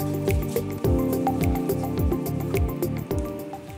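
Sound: squeezing out a pea-sized amount of zinc sunscreen

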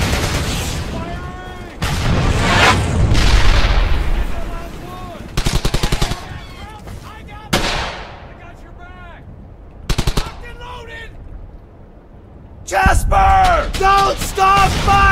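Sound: gunfire in the video game Brothers in Arms: Hell's Highway

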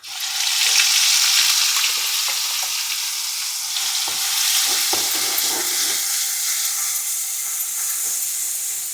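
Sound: onion paste frying in a pan

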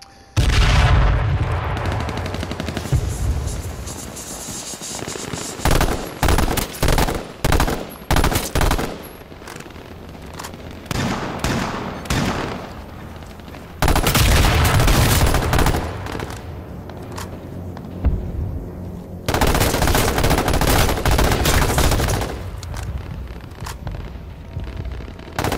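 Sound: gunfire in the video game H1Z1: Battle Royale

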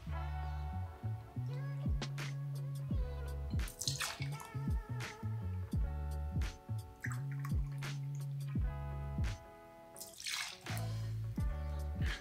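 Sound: pouring cognac into cocktail shakers

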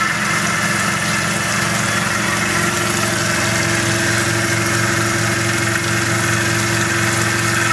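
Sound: Tormach PCNC milling machine spindle cutting at 1000 RPM

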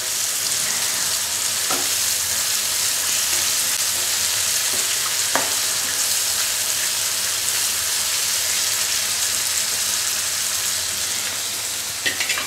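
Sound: tomatoes and onions frying on medium flame

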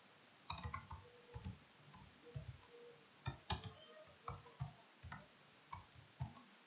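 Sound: typing HTML code on a computer keyboard

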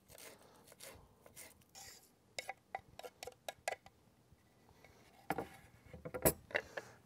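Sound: roughly chopping fresh basil with a knife

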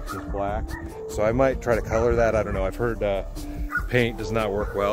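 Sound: dog barking

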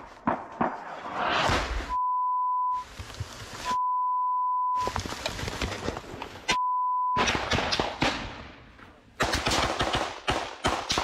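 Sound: censor beeps over combat footage audio

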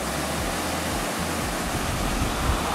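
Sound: waterfall swollen after heavy rain

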